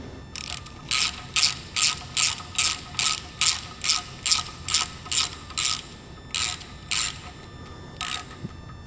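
Ratchet tightening a 10 mm bolt on an engine oil pump during engine prep, a steady run of about fifteen quick, close clicking strokes with a brief pause near the end.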